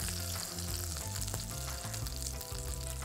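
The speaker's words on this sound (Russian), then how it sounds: "Мы запечатываем мясо со всех сторон." Meat searing in a hot oil-coated frying pan, browned on all sides, gives a steady, close, continuous sizzle and crackle with scattered pops, and no voices over it.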